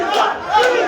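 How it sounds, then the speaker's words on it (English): A roaring crowd cheers wildly in a packed arena during a boxing-style match, a loud, continuous swell of voices that surges twice across the short moment with no speech over it. "Hear the crowd go wild."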